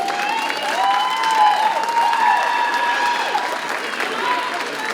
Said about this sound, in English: That is a lot more applause than I thought I was going to get